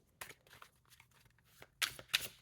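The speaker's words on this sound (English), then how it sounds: "It's larger deck, so it's sometimes more difficult to shuffle." Riffling and sliding of a large tarot card deck being shuffled by hand, two louder crisp bursts of card flutter near the end after softer rustling, close and alone with no talk.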